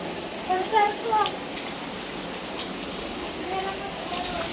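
Rain falls steadily on a terrace and its steps, a soft, even hiss throughout, with a few faint high chirps standing out near the start.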